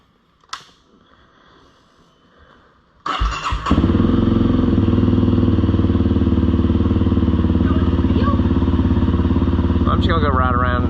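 A Honda 300L motorcycle in a field, upgraded with front and rear suspension, starts after a few quiet seconds and a brief clatter, then runs loud and close with a steady engine note and a short rise near the end.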